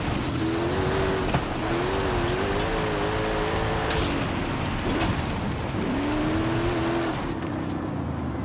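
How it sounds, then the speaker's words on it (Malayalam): A Jeep Willys races in Forza Horizon 5, its engine droning loud and steady with rising and falling revs between gear shifts and occasional tire noise, no voices over it. "പക്ഷെ നമുക്ക് പവറുണ്ട്,"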